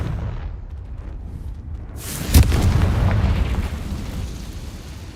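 A Confringo blasting spell in Hogwarts Legacy sets off one sharp, loud explosive boom after quiet ambience, trailing into a long rumbling roar of fire and debris.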